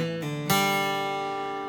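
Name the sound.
bluegrass ending lick in G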